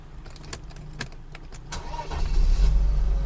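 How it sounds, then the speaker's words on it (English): 1997 Mercedes-Benz S320 W140 started with its flip key: a few light clicks and key jingles, then the starter cranks and the engine catches, settling into a loud, steady low idle close by. "Now let's start the car up."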